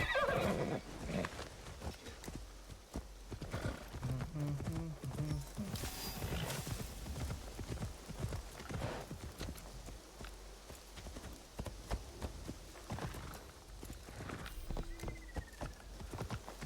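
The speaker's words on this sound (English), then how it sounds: "Summon our horse now." A horse in the Assassin's Creed Shadows game whinnies loudly near the start, then its hooves clip-clop in a steady walking rhythm close by, with another short neigh and faint ambient sounds between.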